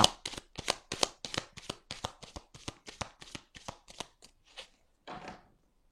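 Petit Lenormand cards being shuffled by hand, a close run of about fifteen crisp riffling snaps that slow and space out toward the end, with no talking.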